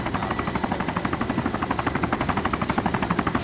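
An ArmA II helicopter thrums steadily close by, its rotor beating in a fast, even pulse that stays loud and constant throughout.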